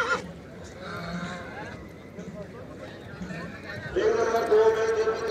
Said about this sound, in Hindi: ये देखिए भाई सफ़ेद घोड़ा,